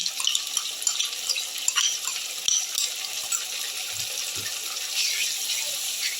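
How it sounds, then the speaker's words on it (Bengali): A yogurt batter with cumin, coriander and chilli powder sizzles in hot oil, giving a soft, steady hiss and crackle close by, with a few faint pops. "দই দিয়ে, জিরে, ধনে, লঙ্কা গুঁড়ো দিয়ে সব কিছু দিয়ে আমি একটা ব্যাটার করে রেখেছি, ওইটা আমি তেলের মধ্যে দিয়ে দিলাম"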